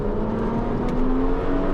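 A car engine revs hard under acceleration, climbing toward the rev range where it pulls strongest around 3,800 rpm. The rising whine is close and loud, with no talking.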